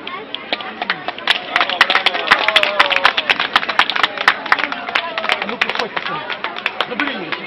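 Applause from an outdoor crowd at a summer ski jumping award ceremony in Zagórz, with dense, sustained clapping and sharp individual claps running steadily throughout, with voices murmuring underneath.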